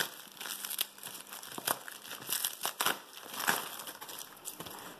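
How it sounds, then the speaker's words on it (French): Packaging of a KOOLNEE K1 being unwrapped, a close run of irregular crinkling, crumpling and tearing sounds with short rustling bursts and no talk. "Allez, sans attendre, on va déballer ça."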